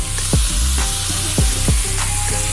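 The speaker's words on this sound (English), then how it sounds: "what we're gonna do is sweat off the onions" Onions sweating in oil in a pan, with a loud, close, steady sizzle broken by a few scraping stirs as the pan is worked.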